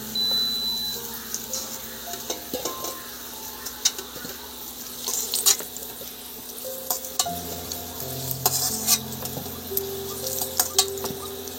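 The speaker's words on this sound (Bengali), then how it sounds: "আলু ভাজা হয়ে গিয়েছে, এবার আমি তুলে নেব" Potatoes fry in a pan for home-style chicken curry while being stirred, giving a continuous low sizzle broken by scraping and clinking stirs, with a faint steady hum behind it.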